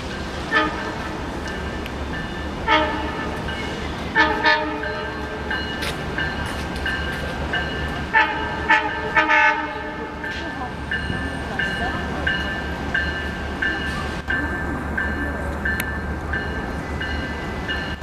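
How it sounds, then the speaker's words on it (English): A Long Island Rail Road Oyster Bay train, usually three cars, pulling into a crowded station, its horn sounding in repeated loud blasts over a steady rumble of the approaching train. "Let's take a look at that Oyster Bay train coming in"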